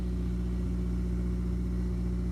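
Honda S2000 fitted with a very loud, boomy aftermarket exhaust, idling or holding steady revs in a continuous deep drone with a strong low rumble, close and loud with no talking.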